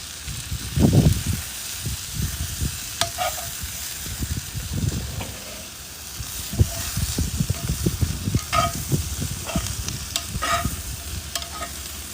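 Ribeye steak sizzling in butter in a pan, a continuous close crackle and hiss with scattered pops and stirring scrapes throughout, with no talk.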